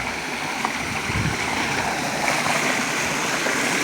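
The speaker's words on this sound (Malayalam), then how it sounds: "വെള്ളച്ചാട്ടവും അതിൻ്റെ കളകളാര ശബ്ദവുമെല്ലാം ഈ വഴിയിലൂടെ വളരെ ആനന്ദപൂർണ്ണമാണ്" Steady, full rush of a waterfall tumbling over large rocks at Mathari Kund near Karuvarakundu, a continuous close roar with no pauses or voices.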